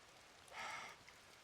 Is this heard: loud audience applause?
no